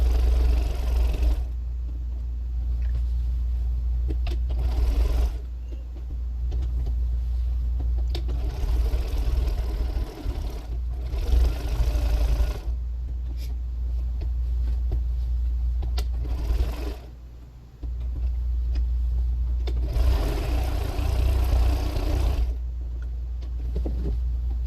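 Sewing machine quilting a bag made from old jeans, a steady low motor hum with repeated bursts of faster stitching, pausing and restarting over about twenty-five seconds.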